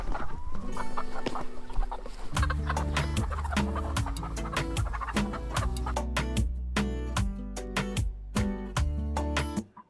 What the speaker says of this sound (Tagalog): May pailan nilang mga manok na nagtatatalon pa,